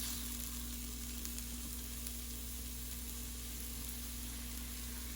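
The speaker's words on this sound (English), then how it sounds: "I just have just barely enough oil here to coat them. So there it goes." Turkey kebabs frying in a pan with just a thin coat of oil, giving a steady, even sizzle with a constant low hum underneath and no talking.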